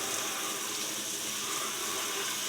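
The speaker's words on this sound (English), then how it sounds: "Then we'll water jet blast it again." A steady, loud hiss of a water jet blasting a small pony's front horseshoe, size 0, during restoration. The spray runs continuously and alone.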